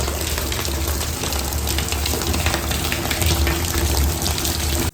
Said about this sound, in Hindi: मैंने बोला चलो ये छान के जो है पानी भर जाएगा हमारा इस्तेमाल का